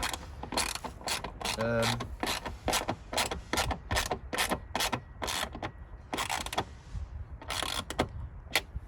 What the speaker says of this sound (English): And then we get our ratchet with our 8mm on. And we just nip them up.